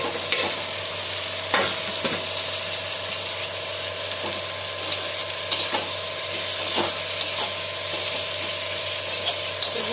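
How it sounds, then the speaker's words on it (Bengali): Onion, green chilli, tomato and spices fry in a pan with garlic paste, giving a steady close sizzle throughout, broken by occasional scraping stirs and utensil clicks, with no voices. "মশলা, পেঁয়াজ, রসুন ভাজা হয়ে গেছে, কাঁচা লঙ্কা, টমেটো সব ভালো ভালো ভাজা হয়ে গেছে"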